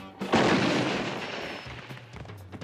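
A cartoon cannon fires a superhero launched as a human bullet: one loud, sudden boom that rolls into a long, fading rumble, with softer rattling afterward.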